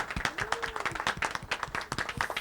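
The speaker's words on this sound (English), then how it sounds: "Let's give her a big round of applause" Scattered applause from a small audience at a corporate event, a crisp, uneven patter of individual hand claps nearby, fairly quiet, with a brief voice rising over it.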